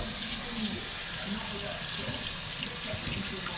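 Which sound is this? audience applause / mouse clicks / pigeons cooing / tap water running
tap water running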